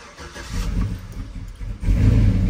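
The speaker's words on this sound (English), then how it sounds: "All right, let me let you guys see how it starts up." A cammed Chevrolet Silverado 4.8 V8 cranks and fires with no throttle, then runs rough and bogs down, its low, uneven engine rumble loud and close with no talking.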